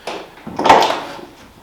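A single car door on rebuilt hinges swinging and shutting with a muffled thud, brief and close, with no voices.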